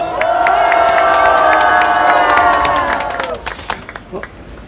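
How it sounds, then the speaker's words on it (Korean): Applause at a political party press conference, loud clapping mixed with cheering and raised voices from a close crowd, swelling then thinning out into scattered claps and a few separate sharp sounds toward the end. "우리 박수로 감사하십시다"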